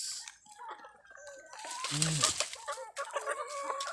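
Hens clucking and cackling nearby in short bursts, mixed with other bird calls and a person talking over the noise of a farmyard with chickens and pigs.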